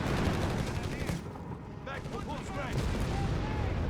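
Gunfire in a Company of Heroes 3 battle, rapid machine gun bursts and heavy artillery-like booms layered with dense battle noise and occasional whistling sounds.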